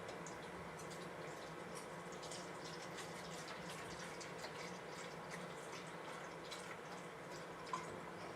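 Chicken broth pours steadily into a measuring cup in a kitchen, a continuous faint liquid trickle and gurgle lasting several seconds with no talk.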